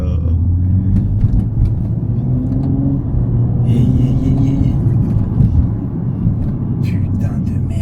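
BMW 135i engine rumbling steadily in sport mode on a night drive, a continuous low drone heard from inside the car with excited conversation over it.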